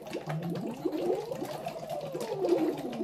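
Air blown gently through a straw into a cup of water gives a steady, close bubbling gurgle that runs for about three seconds at an even, moderate level, with no voices.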